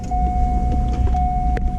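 A car's ignition keys on during a nitrous switch panel test, bringing a steady electrical tone and a low hum, close and continuous with faint clicks.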